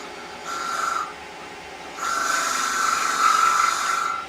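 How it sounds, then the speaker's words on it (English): The back edge of a very small chisel scrapes across the bottom inside a wooden box, making two harsh rasping strokes, a short one and then a longer one, close and fairly loud with no talking. "I'm just using the bottom edge as a little bit of a scraper, and I'm just scraping that through the bottom."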